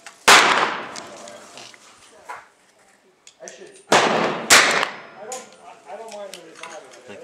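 A 9mm round fired from a 12 gauge shotgun through a rifle chamber insert, two sharp loud reports a few seconds apart with ringing decay, and people talking between and after the shots.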